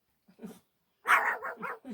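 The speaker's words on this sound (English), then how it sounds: "She's quite noisy. She's like the smallest dog ever." A small dog barks sharply two or three times, close and fairly loud, inside a quiet yurt during a Pilates class.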